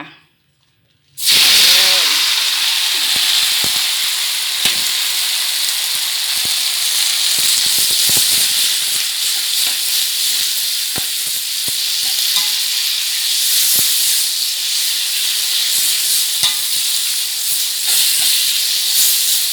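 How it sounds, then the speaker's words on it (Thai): Vegetables stir-frying in hot pork lard, a loud steady sizzle and hiss with scattered scraping stir clicks throughout, starting abruptly after a brief quiet moment. "แล้วก็เดี๋ยวใส่ผักลงไป น้ำมันหมูร้อนแล้วนะคะ"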